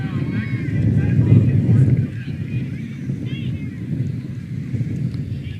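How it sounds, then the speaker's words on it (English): Wind gusts across an outdoor women's Australian rules football match in the USAFL, a steady low rumble of buffeting on the microphone that swells for a couple of seconds, then eases to a continuing blustery roar. "Just that wind just picking up a little bit of a gust"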